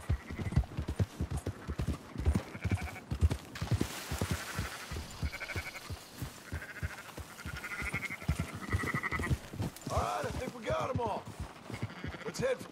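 Sheep bleat repeatedly over a steady clip-clop of hooves in a Western video game as a rider rounds up scattered sheep and goats, with a voice talking over the animal sounds.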